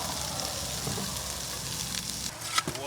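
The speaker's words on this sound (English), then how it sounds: "It's gonna be sizzling." Sisig fries on a hot pan outdoors with a steady, close hiss and crackle of sizzling meat. A few faint knocks come near the end.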